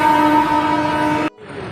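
A train passes close by with a loud sustained horn-like tone that cuts off abruptly, then a quieter rumble of rolling carriages continues briefly.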